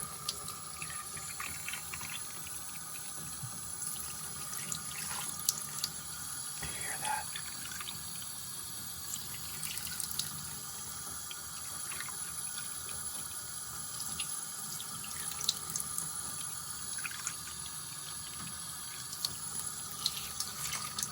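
Water runs steadily from a tap into a sink, a continuous hissing splash, with a person speaking briefly over it.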